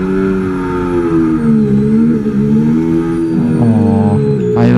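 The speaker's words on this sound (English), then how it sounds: "Wow, look at the engine, how it sounds." A Williams FW47 Formula 1 car in the F1 25 racing game drives on at a steady, loud engine whine that rises and dips through gear changes, ending in a sharp downshift burst, with no voices.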